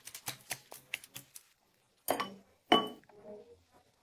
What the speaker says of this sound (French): Mélangez jusqu'à obtenir une consistance complètement lisse.